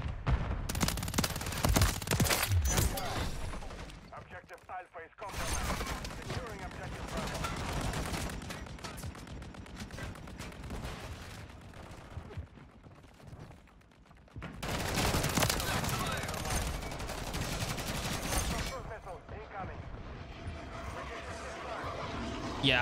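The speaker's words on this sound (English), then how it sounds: "I don't even know where I'm getting shot from right now." Gunfire in the shooter game Call of Duty MW3, with loud bursts of rapid fire and a lull before another long, dense volley. A voice talks over the shooting.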